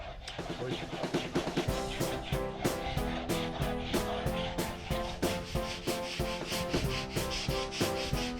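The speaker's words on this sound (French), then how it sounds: "Là je suis en train de gratter le reste des coquillages." Rhythmic, harsh scraping strokes repeat quickly and steadily as leftover shells are scraped off a boat hull, a gritty rasp against a hard surface, close and loud throughout.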